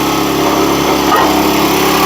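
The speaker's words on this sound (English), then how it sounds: "let's idle the motor down" A Wolfe Ridge 17 RS wood splitter's small engine runs steadily and loudly at close range, a constant droning hum with no pauses throughout.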